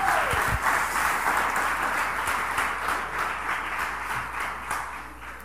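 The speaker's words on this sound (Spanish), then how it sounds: "Denle un aplauso al Señor con alegría." A church congregation applauds joyfully during a sermon, with dense, sustained clapping that slowly fades over several seconds, and a brief shout near the start.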